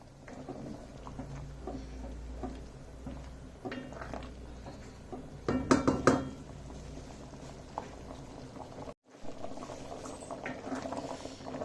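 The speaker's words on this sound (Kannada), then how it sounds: "ಒಂದು 10 ನಿಮಿಷಗಳ ಕಾಲ ಚೆನ್ನಾಗಿ ಸಾರು ಕಾಯಬೇಕು." Masala majjige saaru, a buttermilk rasam, bubbles steadily in a pot on the stove, a soft continuous simmer with a brief louder burst of bubbling partway through and a short gap near the end.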